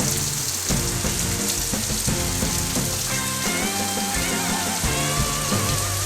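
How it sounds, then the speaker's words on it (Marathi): Heavy unseasonal rain, part of a storm with hail and strong wind, pours down steadily in a dense, continuous roar with no one speaking. Faint tonal sounds rise and fall in the background. "जोरात पाऊस पडायला लागला आता"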